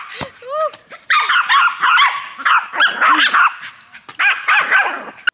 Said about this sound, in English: This is what you call three crazy naughty dogs.